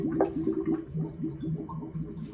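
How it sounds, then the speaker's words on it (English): Hotel room sink drain gurgling, a bubbling, irregular glug of water and air, close and moderately loud, heard alone. "our sink is gurgling"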